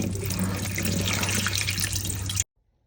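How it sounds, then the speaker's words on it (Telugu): A ZZ plant in its pot, fully submerged in water, gives a steady close gurgling, rushing wash of water for a couple of seconds before cutting off to silence. "ఇలా మొత్తం నీటిలో ముంచేయండి."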